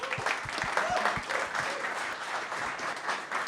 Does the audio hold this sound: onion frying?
no